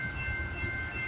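CPKC westbound freight train rolling past at mile 38 of the Galt subdivision in Campbellville, Ontario, a steady low rumble with a sustained tonal whine, close and continuous, no voices.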